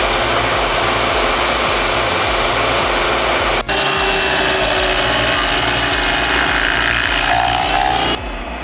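A stump grinder engine runs loudly and steadily nearby, its droning whine shifting pitch partway through, then dropping in level near the end.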